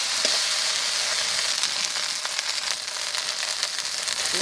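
Cumin seeds sizzle steadily in hot oil for a traditional Santali tribal dish, a dense, close crackling hiss that runs unbroken throughout with a few faint clicks of a spoon.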